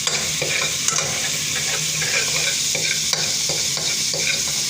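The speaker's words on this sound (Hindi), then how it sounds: "सिर्फ 1 चम्मच मैंने ऑयल का डाला है इसके अंदर लहसुन को सौटे करने के लिए" Garlic sautéing in a teaspoon of oil in a kadhai sizzles steadily, with a spoon or spatula scraping and stirring in repeated sharp strokes, close up and with no talk.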